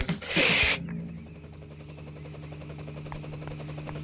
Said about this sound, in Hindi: ये उसी के हेलीकॉप्टर की आवाज है